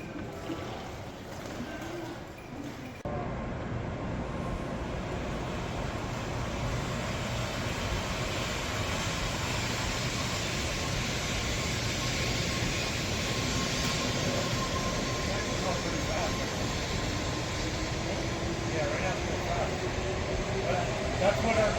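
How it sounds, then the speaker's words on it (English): Japanese bullet train running steadily for about twenty seconds, a continuous broadband rumble and rushing roar with a faint whine on top, heard close from inside or beside the train, with no clear talk. "now we get to check out a bullet train"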